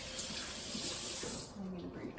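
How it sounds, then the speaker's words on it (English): Water running from a kitchen tap while hands are wetted during dough making, a steady broad hiss of flow that thins out toward the end, close by, with a voice speaking over it. "I'm gonna get my hands wet one more time."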